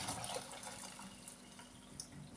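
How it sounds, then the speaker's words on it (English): Hot water is poured from one cooking pot into another while making moi moi, a steady, close, soft splashing stream that runs for a couple of seconds and ends with a brief clatter. "I'm pouring this water in another pot."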